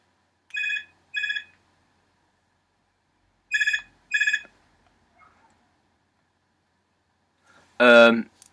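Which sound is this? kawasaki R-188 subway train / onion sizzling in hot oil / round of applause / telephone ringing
telephone ringing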